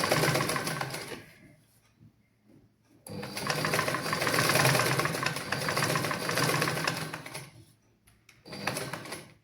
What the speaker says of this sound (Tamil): நான் உங்களுக்கு தைச்சு காட்டுறேன் நீங்களும் மெது மெதுவாகவே தையுங்கள்